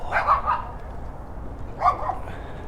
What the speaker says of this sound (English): they start barking to say good morning